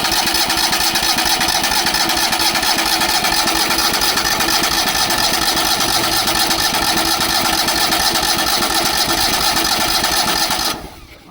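An abandoned crane's engine runs steadily on starting fluid, a loud, continuous near mechanical roar that holds even for about ten seconds, then cuts off abruptly at the end.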